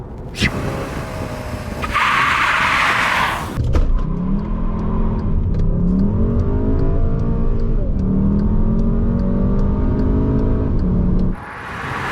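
A Volkswagen Jetta GLI accelerates hard during a speed test. A loud engine revs up through rising gear pulls, with a short tire screech at the start and a shift break partway through, heard close with no talk.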